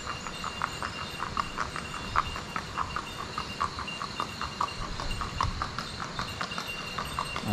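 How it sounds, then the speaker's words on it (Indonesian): A horse's hooves clip-clop at a steady walking pace on a hard surface in the cool hills near Ciater, Subang, the evenly spaced knocks continuing throughout at moderate distance. "Ada pak kuda."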